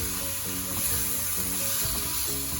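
Small pork slices sautéing in a hot pan for a pechay dish, a steady dense sizzle with some stirring, loud and continuous with music-like tones underneath and no talk.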